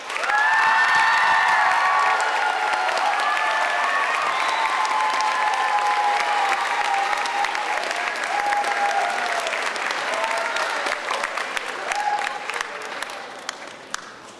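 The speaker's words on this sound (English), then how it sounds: "A round of applause for Ms. Pam Heinrich." A middle school graduation audience breaks into loud sustained applause with scattered cheers and whoops, the clapping dense and even before slowly tapering off near the end.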